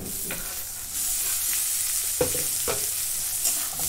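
Tomatoes sautéing with browned onion and cashew pieces in a kadai for pulao: a steady, close sizzle with a few louder scraping stirs of the spoon against the pan.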